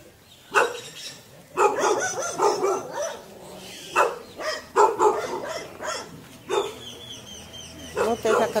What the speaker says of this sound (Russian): Еще одна собака.